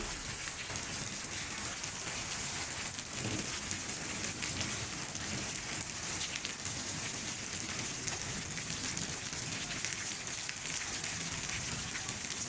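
Steady afternoon rain falls and patters on surfaces in Pabna, Bangladesh, an even and continuous wash of drops with no break throughout.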